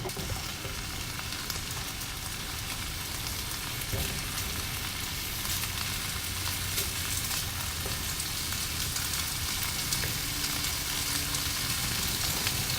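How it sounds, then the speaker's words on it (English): Bologna slices fry in a hot pan, giving a steady, dense sizzle and crackle that carries on evenly without pause. "you know it's cooking when you can hear that good sizzling going"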